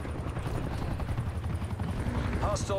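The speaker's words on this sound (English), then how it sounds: "Attack helicopter above. Attack chopper established on station." Attack helicopter from the Call of Duty Cold War video game thrumming overhead as a steady, loud rotor drone throughout, with bursts of game voice and effects layered on top near the end.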